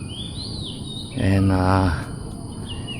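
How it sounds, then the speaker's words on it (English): A magpie robin gives short, clear whistled calls outdoors at sunrise, a few brief notes standing out over steady background hum, with a low buzzing tone rising briefly in the middle. "you can see there's a nice bird there making nice short sound."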